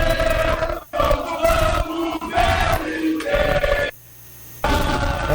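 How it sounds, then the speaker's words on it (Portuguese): Internacional supporters sing in a large crowd outside the team hotel, a loud chorus of voices chanting in waves, with a brief lull near the end before the singing swells again. "A gente consegue ouvir bem forte a torcida colorada cantando."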